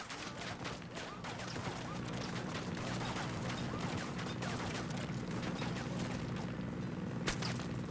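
Sustained gunfire in a Ghost Recon Wildlands firefight, a dense steady roar of shots running the whole stretch with bursts layered throughout, loud and continuous.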